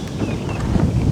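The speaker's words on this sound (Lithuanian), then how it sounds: "vėjas dar pučia" Wind buffeting a microphone out on open water during a pike fishing trip, a steady low roaring rumble that fills the short moment on its own without any talk.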